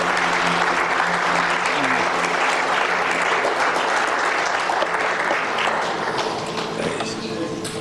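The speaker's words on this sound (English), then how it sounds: "Standing ovation" A standing ovation fills the room with sustained, dense applause, loud and steady with many hands clapping, easing slightly toward the end.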